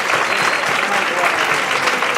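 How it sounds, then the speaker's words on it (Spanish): An audience at a comedy monologue show during a dinner night in Terrassa claps steadily and loudly throughout, a dense wash of applause from a room full of people. "A ver cómo estáis de aplausos aquí."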